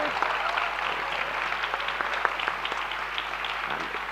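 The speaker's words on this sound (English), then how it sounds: "let's have a big round of applause and a thank you to Michael and Sarah" Applause from an audience at an annual general meeting thanking two presenters, a steady dense wash of clapping at moderate level, with faint voices mixed beneath it.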